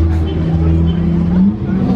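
A Lamborghini Aventador engine revs hard on a Monaco street, giving a loud, close, sustained roar with a rising pitch and throaty low rumble. Crowd voices can be heard around it.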